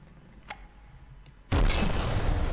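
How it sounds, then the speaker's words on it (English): Gun explosions in the From The Depths naval combat game: a faint tick, then a sudden loud blast that rolls on as a sustained roar to the end. "But I mean, the explosions are enough."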